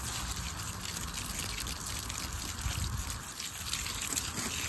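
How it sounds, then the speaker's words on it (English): Water trickles and splashes steadily as garden seedlings are watered outdoors, a continuous close pouring with no talking. "I'm gonna water these."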